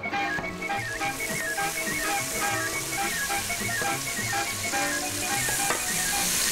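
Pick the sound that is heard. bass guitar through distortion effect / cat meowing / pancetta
pancetta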